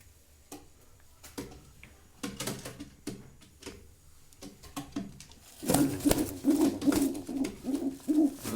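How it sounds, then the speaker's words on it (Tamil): Pigeons in a coop coo in low, repeated bursts, sparse at first and then louder and denser, with soft rustling and ticking movement between calls. "நல்லா அப்படியே ரொம்ப அக்ரெசிவாக இருக்கும் இந்த புறா"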